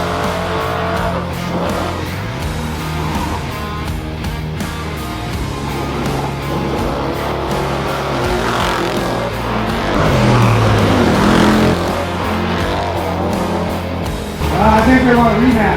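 Cars rev and accelerate in a 120-foot street drag race between an old '55 and a TRX. The engine roar is steady and loud, mixed with crowd and commentator voices talking throughout.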